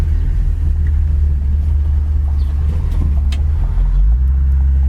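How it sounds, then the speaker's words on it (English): Engine of a 1964 Chevy Impala idling: a steady, deep, close rumble that holds even throughout, with a slight shift near the end and no voices. "Sat there and idled beautifully."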